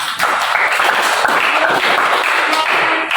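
A class of students claps together at the end of a lesson, loud, close and continuous, with a few distinct hand slaps standing out over a short stretch.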